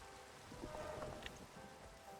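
Steady rain hisses through a block-building survival video game, a continuous soft wash of falling drops with no talk over it.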